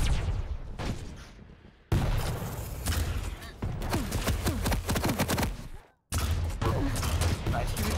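Rocket launcher fire and blasts in a Quake cup match crack out in dense bursts, with booming explosions and short silences between them, loud and close amid constant game action.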